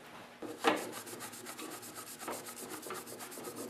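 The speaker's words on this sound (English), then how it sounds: "I'm also going to clean the shaft here where the drive disc slides on" A rag or brush scrubs grease off a snowblower drive shaft in quick, rhythmic rubbing strokes, close and fairly quiet, with one sharper scrape near the start.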